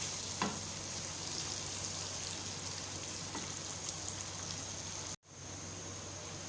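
Onions sizzle and fry in a pan for keema, a steady close crackling hiss with occasional stirring clicks, continuous throughout with a brief cut near the end; no voices.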